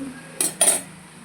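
Turmeric being stirred into a tomato curry in a pot, with two quick metallic scrapes of a spoon against the pot set close together and close by, against quiet background, no voices.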